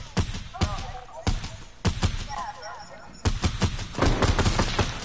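Gunfire from a gun in a video game: several loud, sharp shots in uneven bursts, with voices talking in the background between and over the shots.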